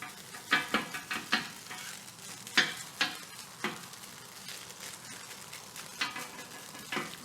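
Egg and rice fried teppanyaki style, a soft sizzle under repeated sharp scrapes and taps of a spatula on the hot surface, coming in irregular bursts about every half second.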